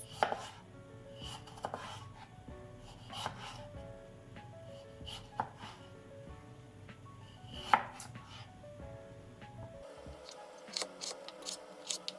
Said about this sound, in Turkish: patatesleri küçük küçük kareler olacak şekilde doğruyoruz